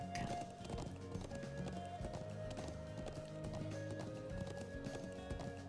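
In the Trails of Cold Steel video game, a horse's hooves gallop in a steady rapid clip-clop over game background sound, continuous and fairly quiet throughout.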